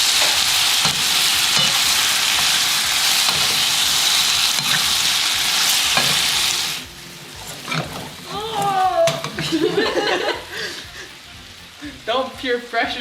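Garlic butter shrimp and vegetables sizzle loudly in a hot pan for several seconds, then the hiss drops away and a voice talks over faint stirring and occasional soft scrapes.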